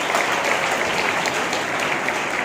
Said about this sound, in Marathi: पण त्यासाठी एकदा त्यांच्या जोरदार टाळ्या वाजवूया.